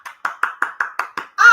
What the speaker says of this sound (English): I'm clapping for everybody